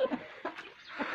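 Chickens and a rooster clucking in a few short, soft bursts in a backyard coop, fairly faint and close, with quiet gaps between calls.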